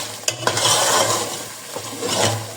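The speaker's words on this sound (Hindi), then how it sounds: "मज़ीद इसकी हम भुनाई करते रहेंगे ताकि मसाला मुकम्मल तौर पर भुनकर तैयार हो जाए" Masala is stirred and fried in ghee for stuffed tinda, with a steady close sizzle broken by a few scraping and tapping strokes of the spoon; no one talks.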